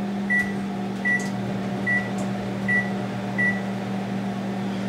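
A microwave oven runs with a steady hum while heating plastic for injecting soft worms, short beeps repeating about every three-quarters of a second over the drone.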